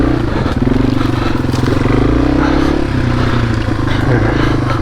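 A Yamaha TW200 dual sport motorcycle chugs up a hill with a low, steady engine drone, close and fairly loud, with light clatter from the terrain mixed in.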